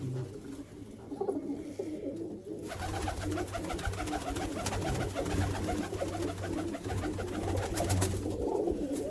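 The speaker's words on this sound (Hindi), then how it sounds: "दोस्तों ये कबूतर है जिनका आपको शौक करवाया।" Teddy and golden pigeons coo in a close, soft rhythm, repeated throaty calls that start after a short quieter pause and continue steadily to the end.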